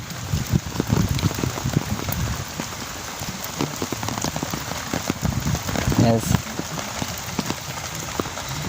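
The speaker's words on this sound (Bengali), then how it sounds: "এখন বৃষ্টি হচ্ছে এই দেখেন বৃষ্টির অবস্থা" Steady rain pours on surfaces in a village, a dense, close patter of drops that runs throughout, with someone speaking briefly over it.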